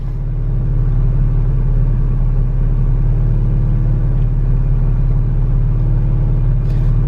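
A BMW E30 idles as heard from inside the cabin, a steady low rumbling drone that stays constant and close, with no voices.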